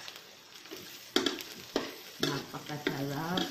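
Garlic sautéing in Star margarine in a pan for adobong kangkong with tofu, with bursts of sizzling and stirring scrapes that swell louder toward the end, close and clear with no talk.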